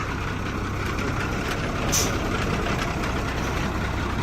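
A used dump truck runs with a loud, steady engine rumble and broadband road noise, and a short, sharp hiss of air brakes releasing bursts out about midway before the engine drone carries on.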